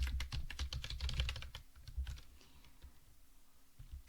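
Fingers type on a computer keyboard in quick, dense bursts of close, crisp key clicks, which thin out to a few sparse taps near the end, with no talk.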